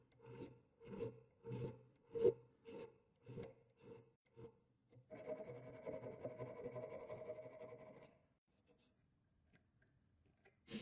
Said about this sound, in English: I'll file down the worn metal parts.